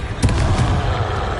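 Fiery blast of the Confringo spell in Hogwarts Legacy, a short booming burst with a crackling tail that fades over about a second.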